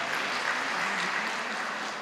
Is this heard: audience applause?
yes